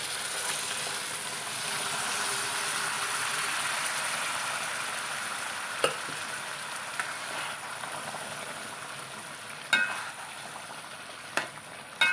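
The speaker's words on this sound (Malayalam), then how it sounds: "നമുക്കിനി നമ്മൾ വേവിച്ച് വെച്ചിരിക്കുന്ന നമ്മുടെ ഇറച്ചി ചേർത്ത് കൊടുക്കാം" Cooked meat is stirred into a curry in a pan, giving a soft, steady sizzle with a few sharp scrapes and clicks from the spoon.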